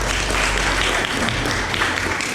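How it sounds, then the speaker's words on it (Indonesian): Audience applause at a religious talk gathering, a dense steady burst of clapping from a crowd, loud and sustained for a couple of seconds. "Aplaus untuk kali ini."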